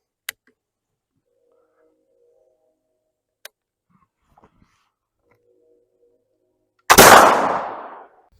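Muzzle-loading American long rifle fired outdoors: two faint sharp clicks, then a single loud, close boom that rolls off over about a second, with no talk.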